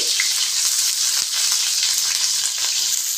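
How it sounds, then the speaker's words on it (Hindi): Onions frying in hot oil, giving a steady, dense, close sizzle with a few faint pops. No voices. "मेरा ये तेल गर्म हो चुका है। बिस्मिल्लाहिर्रहमानिर्रहीम। अब मैं प्याज को फ्राई करूँगी।"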